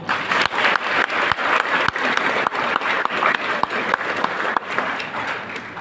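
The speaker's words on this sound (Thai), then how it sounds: "ขอเสียงปรบมือ" Audience applause at a Thai e-commerce business seminar, honouring a coach: dense, steady clapping from a sizeable crowd, close and fairly loud for about six seconds, with individual sharp claps popping out of the wash.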